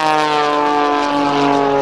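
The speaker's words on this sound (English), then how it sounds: "Rolls the airplane up on the 60-degree upline down, gyroscope." An aerobatic propeller airplane at the 2007 Dayton airshow, flown by a well-known air-show pilot, drones loud and steady overhead with a strong buzzing engine tone that slowly shifts in pitch.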